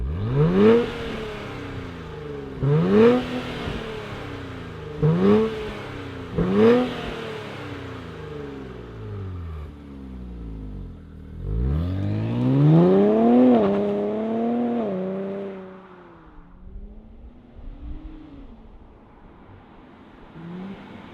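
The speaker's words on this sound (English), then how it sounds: "Let's fire it up and hear that stock exhaust and what it sounds like." A 2025 Nissan Z Sport on its stock exhaust gives four quick, sharp revs in a row. A longer, rising and falling rev follows before the engine settles back to a low idle. The sound is close and loud.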